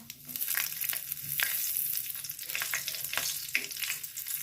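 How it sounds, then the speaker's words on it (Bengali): Bay leaves, whole cumin and green chillies hit hot oil in a pan, producing a steady, close crackling sizzle with occasional stirring scrapes throughout. "এবার তেলের মধ্যে দিয়ে দেবো দুটো তেজপাতা গোটা জিরে আর দুটো কাঁচা লঙ্কা"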